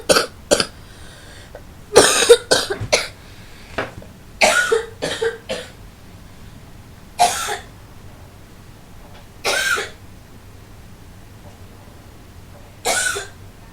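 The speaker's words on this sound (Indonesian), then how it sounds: "batuknya bikin capek" One person coughs repeatedly in irregular bursts, some clustered in quick runs and others spaced several seconds apart, loud and close over a quiet background.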